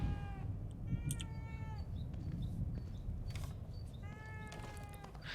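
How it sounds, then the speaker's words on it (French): A loud cat meows repeatedly in The Evil Within 2, three drawn-out mewing calls at the start, middle and end over a low rumbling game ambience. "Qu'il est bruyant, ce chat."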